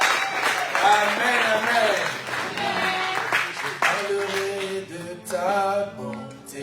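A church congregation at an anniversary celebration applauds and cheers as an evangelist approaches, steady clapping blended with voices and singing over the whole stretch.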